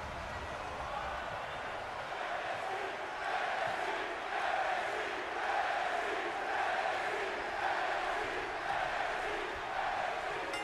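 A Colorado Springs arena crowd in the wrestling game WWE 2K20: a steady, roaring wash of crowd noise with swelling cheers that holds for the whole stretch, with commentary voices mixed underneath.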